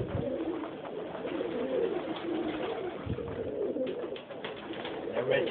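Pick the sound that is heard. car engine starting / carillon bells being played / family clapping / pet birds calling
pet birds calling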